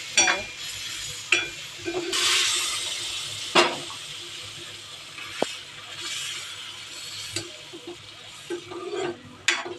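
Jaggery syrup for semolina sheera bubbling in a pan on the stove, with soft boiling hiss, intermittent clinks and scrapes of a spoon stirring, close and moderately loud.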